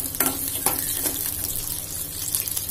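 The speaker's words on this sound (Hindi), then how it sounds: "तो यहाँ पर मैं कुछ प्याज फ्राई कर रही हूँ इस तरह से" Onions sizzle in hot ghee in a kadai, a continuous crackling fry heard up close, with a few brief stirring scrapes breaking through the steady hiss.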